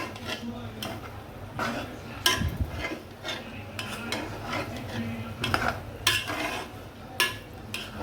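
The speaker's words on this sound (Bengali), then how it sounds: "ভালো করে এখন একটু নেড়ে" Meat for biryani stirred in a pot, a close run of repeated scraping and clinking spoon strokes against metal over a low simmering sizzle, fairly loud and rhythmic.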